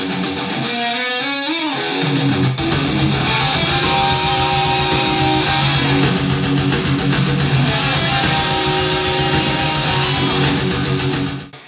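Layered electric guitar harmony lines through a Line 6 Helix, a brief solo melodic run giving way to a dense, distorted full-band passage that plays loud and steady throughout.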